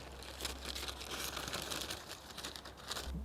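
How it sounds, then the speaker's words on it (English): Dry sweet pea seed heads being cut from the plant in a garden, a steady papery crinkling and crackling of brittle pods that runs without a break from close by. "The sweet peas have now been allowed to go to seed, and we can now cut off the drying seed heads."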